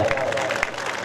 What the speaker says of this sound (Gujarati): રાજને એકવાર જોરદાર તાળીના ગગડાથી વધાવો